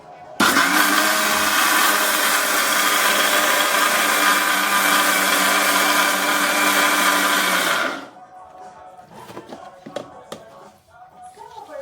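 A loud mixer grinder whirs steadily for several seconds grinding thick ragi dosa batter with a little water, then cuts off, leaving quieter clinks and handling sounds.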